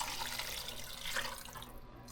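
Tap water runs steadily into a pot or sink in a homestead kitchen, a close, even splashing rush that thins out near the end.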